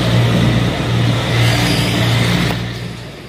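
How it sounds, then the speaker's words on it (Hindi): Road traffic rushes past during a Royal Enfield motorcycle ride between Kasganj and Etah, a loud, steady roar of engines and wind noise that swells and fades slightly, with no voices. "बहुत ट्रैफिक है,"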